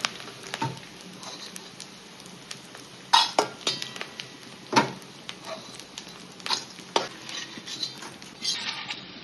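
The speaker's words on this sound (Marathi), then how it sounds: "तर मी आता हे ना 2 बॅच मध्ये तळून घेत आहे डिंक." Edible gum (dink) frying in batches in a pan for ladoo, with bursts of sizzling and repeated clinks and scrapes of a spoon against the pan, close and intermittent, no talk.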